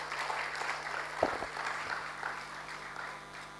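Steady audience applause for two ministers fills an official launch of the 2021 Multiple Indicator Cluster Survey, a dense, even patter of many hands at moderate volume with no talking over it.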